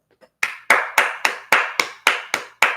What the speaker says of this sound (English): Everyone applaud Jane Doe.